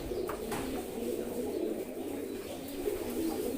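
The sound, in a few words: pigeons cooing in a loft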